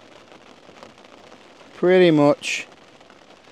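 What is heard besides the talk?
rain falling on a tent while wild camping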